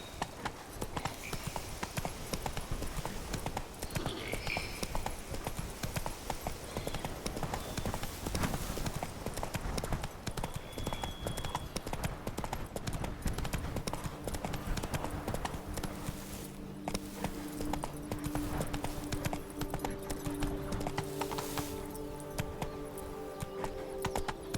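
Roach the horse from The Witcher 3 gallops steadily, a continuous rapid clip-clop of hooves filling the whole stretch, with brief game voices and ambient sounds mixed in.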